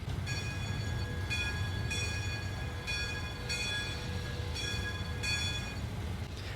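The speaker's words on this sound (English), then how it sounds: "The bell sounds pretty realistic, although it doesn't move, like the model doesn't move, but the sound makes up for that" The bell of Union Pacific steam locomotive 844 in the Trainz railroad simulator rings in a steady, evenly spaced series of about seven clear metallic strokes over a low background rumble.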